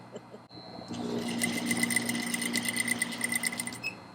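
An industrial sewing machine stitches corset fabric, starting after a short pause and running as a steady close mechanical whirring hum with rapid rhythmic needle ticking.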